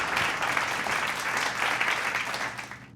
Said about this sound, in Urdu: عمیر کے لیے بہت ساری تالیاں ہونی چاہیے